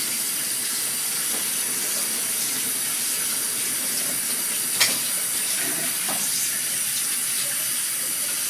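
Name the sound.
washing a bowl under the tap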